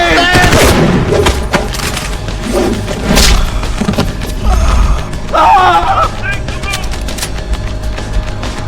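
Bursts of gunfire and mechanical clanks from the Deus Ex: Human Revolution video game, loud sharp shots in irregular clusters with a voice shouting in between.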